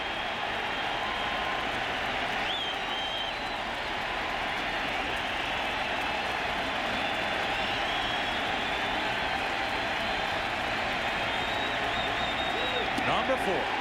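Crowd roaring steadily in a baseball stadium during Game 2 of the 2001 World Series, Yankees at Diamondbacks, a sustained wash of cheering and applause under continuous commentator talk.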